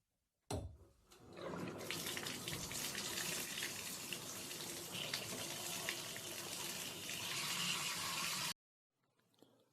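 Water gushes steadily from a tap into a bathtub, a loud, continuous rushing that starts abruptly, runs for several seconds and cuts off, leaving a faint trickle.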